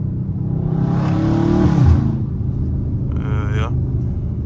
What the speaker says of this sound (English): this is a real power slide right here now